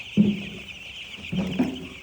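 Broiler chicks on a poultry farm give short, close clucking calls in two brief bursts, with a steady high hum of farm machinery running underneath.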